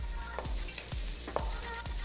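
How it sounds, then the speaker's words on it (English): Oil and cumin sizzle steadily in a pan, a constant close frying hiss broken by a few soft scraping strokes as the spices are stirred, with no speech. "Right, so it's frying up beautifully."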